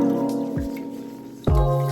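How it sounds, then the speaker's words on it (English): Uncooked rice rinsed in water in a pot, with two wet swishing splashes over a steady background hum and no talking. "so now you're just going to rinse the rice"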